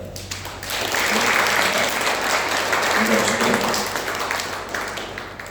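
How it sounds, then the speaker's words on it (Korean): A church congregation applauds steadily for several seconds during a Sunday service, the clapping holding loud before easing off slightly toward the end. "큰 박수로 환영하겠습니다"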